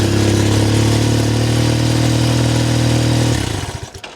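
A Triumph Bonneville motorcycle idles with a loud, steady, even engine rumble that cuts off abruptly near the end and fades out, with no talking.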